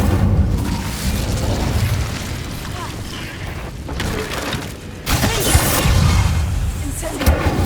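A fiery Incendio spell blast from the Hogwarts Legacy video game, with bursts of booming, crackling fire effects layered over continuous game audio and a voice casting spells.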